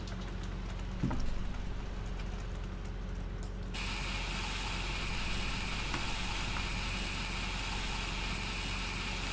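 Rain starts pouring partway through in the video game Farming Simulator 17, a dense steady hiss that swells suddenly after a quieter mechanical background of a grain dryer and keeps going.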